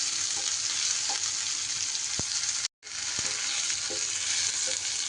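Whole spices and peppercorns dry-frying in a pan, a steady bright sizzle with occasional soft clicks and scrapes of stirring, heard up close and alone with one brief pause.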